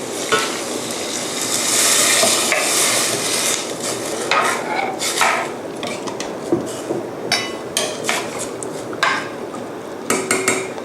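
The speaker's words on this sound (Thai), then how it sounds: "จากนั้นค่ะเติมน้ำซุปปลาคัตสึออกลงไปค่ะ" Katsuo fish stock pours into a pot of Japanese curry with a rushing splash, followed by clinks and scrapes of a utensil against the pot and bubbling sizzle, fairly loud and close with no talking.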